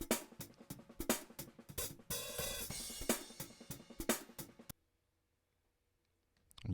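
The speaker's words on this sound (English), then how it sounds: "So let's get a sound of the hi-hat." Unequalised 13-inch hi-hats in a drum mix, with bright, fast ticking and washy cymbal hits over other drums for several seconds, then a pause before a last hit returns.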